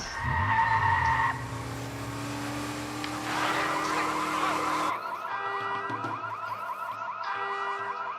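In Watch Dogs 2, a bus drives with a loud screeching tire skid, followed by blaring alarm-like tones and siren wails in the game.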